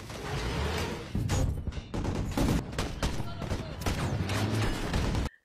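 A movie-style war scene: an RPG strike and sustained gunfire, dense loud bursts and rattling shots with booming impacts throughout, ending in a sudden cut.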